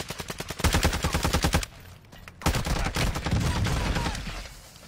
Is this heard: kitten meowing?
no